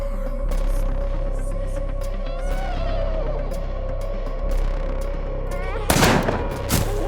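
A single sharp gunshot bursts out near the end in the horror video game Scarlet Hollow, loud against a steady humming ambient background with a few faint clicks before it.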